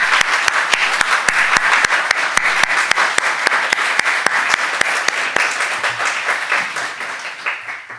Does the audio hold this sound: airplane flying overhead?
no